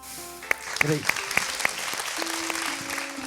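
A studio audience on a televised school quiz show gives scattered, sharp claps under a speaking voice and sustained tones.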